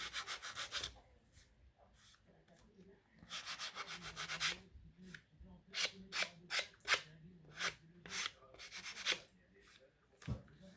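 An old, worn nail file rasped back and forth in a craft session making a Halloween ATC card: quiet, close scratchy strokes in uneven bursts, sometimes quick runs of short strokes, with faint low background noise.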